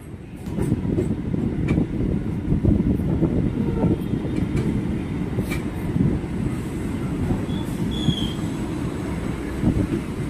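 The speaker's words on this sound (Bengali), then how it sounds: "এই মুহূর্তে আমাদের ট্রেন এসে পৌঁছলো আমাদের যাত্রাপথের 6ম হল্ট মাঝেরহাটে" A local train on the Sealdah to Budge Budge line rumbles along at a constant, loud roar, with rattling wheels, brief squeals and clanks, and wind noise heard from inside the carriage.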